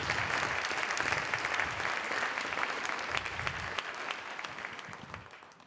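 An audience at a youth-engagement conference session claps steadily in sustained, dense applause that holds at an even level and slowly fades toward the end.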